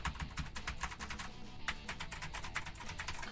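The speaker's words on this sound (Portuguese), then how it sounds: "meus dois teclados são mecânicos, com switch azul. E quem tem switch azul sabe que ele faz um barulhão" Fast, steady typing on a mechanical keyboard with loud clicky blue switches, a dense run of sharp close key clicks with a short pause midway and no talking.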